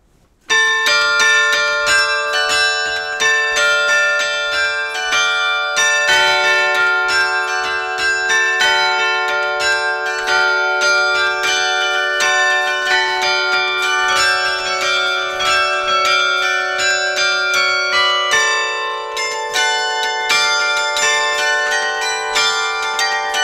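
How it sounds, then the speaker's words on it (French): Carillon bells in Castres, France ring out loudly and continuously, a dense layered peal of many sustained tuned tones with overlapping melodic strikes and long ringing decay throughout. "tu vas nous remontrer le carillon ?"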